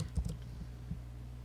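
A computer keyboard being typed on, with a few quick key taps near the start and one more shortly after, faint against a low steady hum.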